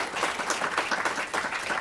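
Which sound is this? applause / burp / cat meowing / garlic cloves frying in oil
applause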